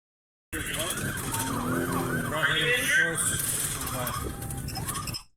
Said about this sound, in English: So they come up to this stoplight and they turn off their sirens